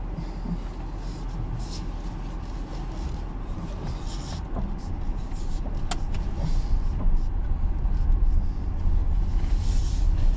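A Mini pulls away and drives on, a steady low engine and road rumble that grows slightly louder midway, with faint higher rattles and clicks over it and no talk.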